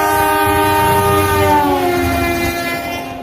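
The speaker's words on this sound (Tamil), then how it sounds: "வழக்கத்தை விட அதிவேகமாக எக்ஸ்பிரஸ் ரயில் அந்த இடத்தை கடந்து சென்றது" An express train passes at high speed, its horn blaring loudly with rumbling wheels, then fading slightly as it moves away.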